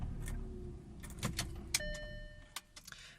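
Car key pushed into the ignition of a 2010 car, a few faint metallic clicks and jangles with one sharp tick and a brief electronic chime tone, close and quiet over low cabin hum.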